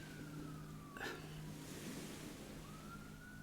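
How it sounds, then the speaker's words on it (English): A police car siren wails faintly from a main road outside a slightly open window, with its pitch sliding in a slow sweep over a low background hum. "Apologies if you can hear the siren."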